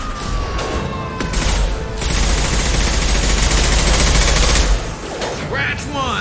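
Loud, sustained cannon fire in the Mass Effect 2 game, a continuous roaring barrage that drops off near the end, with a voice shouting over it.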